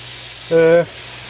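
Bacon frying on a teppanyaki cooker during a camping breakfast keeps up a steady sizzling hiss, broken for a moment by a short voiced sound in the middle.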